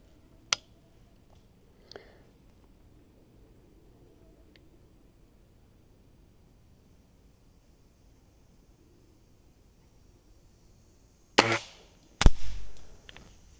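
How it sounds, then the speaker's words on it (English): A Beeman R9 air rifle fires with sharp snaps, an isolated crack early on and a pair of louder shots with a brief rattling tail near the end, separated by long quiet stretches. "a little raspy on the shot cycle, a little vibration that I'm feeling back here."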